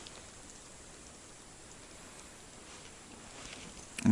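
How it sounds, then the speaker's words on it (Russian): Freezing rain patters softly and steadily through a forest by a lake, a faint, even hiss of fine drops with a brief louder bump at the very end. "Такой ледяной дождь."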